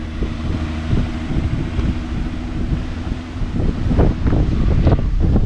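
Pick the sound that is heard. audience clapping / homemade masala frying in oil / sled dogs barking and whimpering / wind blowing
wind blowing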